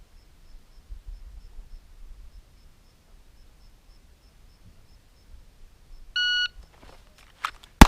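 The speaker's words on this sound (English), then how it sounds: "Get my trusty beeper going again here." A shooting timer beeper gives one sharp electronic beep near the end, preceded by quiet ticking and faint rustling at a firearms lesson, followed by a loud crack at the very end.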